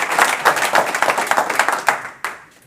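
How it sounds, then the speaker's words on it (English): An audience at a pitch competition grand final gives warm applause, a loud, close burst of many clapping hands that thins into a few last claps and fades out within about three seconds. "warm applause for Global Forest Bond."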